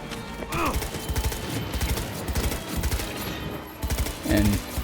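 Rapid bursts of gunfire in the video game Cyberpunk 2077, repeated loud volleys fired in quick rhythmic strings across the whole stretch, with a voice talking over parts of it.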